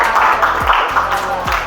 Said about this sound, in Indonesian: Tepuk tangan buat Bian